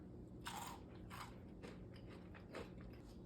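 Crispy fried calamari bitten and chewed close to the microphone, with several sharp crunches in a row at a quiet level and a low steady hum underneath.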